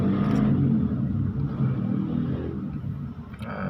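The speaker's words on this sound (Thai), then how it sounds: "อาจจะมีเสียงรถรบกวนบ้างนะครับ" Traffic rumbles steadily nearby as a car passes, a low engine roar that swells and fades with no voices.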